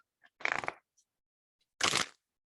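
Two bursts of crisp, fluttering rustle, each lasting a fraction of a second, with a short quiet gap between, as tarot cards are shuffled close up.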